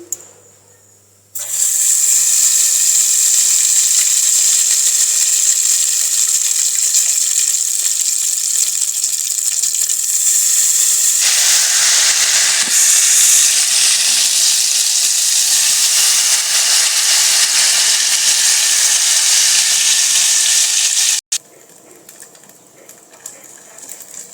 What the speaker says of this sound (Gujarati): તો તેલ આપણે ગરમ થઈ ગયું છે. તો તેમાં આપણે આ થોડું થોડું ઘેવરનું બેટર ઉમેરીશું